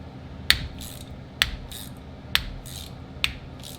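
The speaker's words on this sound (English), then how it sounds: "5/8 wrench on here." A 5/8 wrench works on a Yamaha Big Bear 350 ATV universal joint, giving four sharp metallic ratcheting clicks spaced about a second apart, fairly close and clear.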